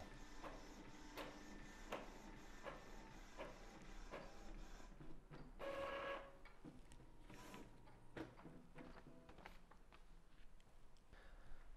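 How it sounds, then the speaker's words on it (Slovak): An Epson L3150 inkjet printer prints a document, giving repeated mechanical clicks and whirring passes of the print head, with a louder feed burst midway. The sound is close and steady, with no voices. "Vidíme, dokument sa nám krásne tlačí"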